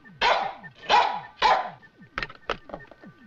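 A small robotic security dog barks three times in quick succession, followed by a couple of shorter, sharper yips, close and clear with no other sound around it.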